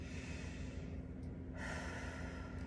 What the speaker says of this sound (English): Another big breath in.